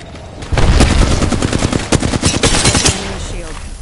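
Rapid automatic gunfire in a first-person shooter game, a loud, close burst of repeated shots that continues for a few seconds, with game voice callouts under the firing.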